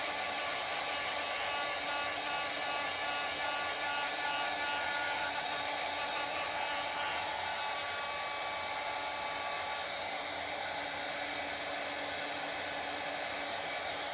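A hair dryer blows on the paint of a mustache decoration with a steady, unbroken airy whir that holds at one level for about fourteen seconds, with no talking.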